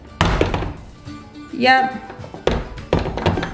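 Closet and bathroom doors inside a newly bought California house swing shut, giving a few solid close thuds spread across a few seconds, with people talking between them.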